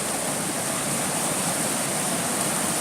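High water rushing through a fishway entrance, a loud, constant roar of turbulent flow with no breaks or voices.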